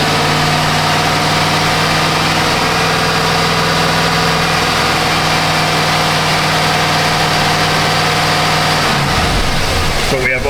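A Chevy 2500HD truck engine warming up after oxygen sensor repairs, its revs held slightly raised, runs as a loud, steady, close-up drone that drops off near the end.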